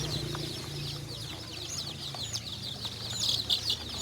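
Free-range village chickens cluck and chatter continuously at close range, their calls overlapping in a busy flock with a few louder squawks near the end.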